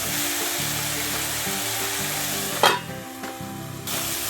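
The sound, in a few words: tomatoes and garlic frying in a pan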